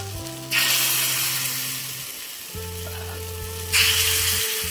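Chitoi pitha rice batter poured into a hot clay mold sizzles loudly in two strong bursts that slowly fade, with a low steady hum beneath and no talking.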